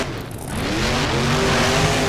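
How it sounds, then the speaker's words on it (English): Monster truck engines racing in the BeamNG video game, a loud, dense roar of engines holding a high steady pitch, with a rising whine as they speed down a straightaway. "Both trucks heading down the straightaway into the next turn."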